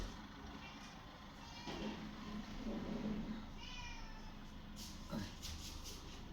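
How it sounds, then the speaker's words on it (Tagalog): A cat meows faintly a few times amid background noise, with a brief sharper cry near the end. "Pusa."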